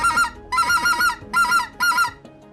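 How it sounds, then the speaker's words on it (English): A Duck Commander Specklebelly goose call blown in a yodel, four loud, strung-out honking bursts with warbling, two-note breaks, each separated by a short gap, close and alone. "And then if you want to yodel, you just string it out."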